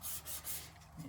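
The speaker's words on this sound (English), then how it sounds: "So you just gotta go around and give everything a scuff." Steady rubbing and scuffing of a rusted car's body panel with a 320 grit sanding pad before priming, a soft, continuous abrasive swish with slight back-and-forth surges, close and fairly quiet.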